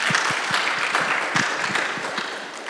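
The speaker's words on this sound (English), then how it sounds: "please give him an applause" Audience applauding a musician at an arts talk: a steady spread of many hands clapping, fairly close and lively, holding level for a few seconds before easing slightly.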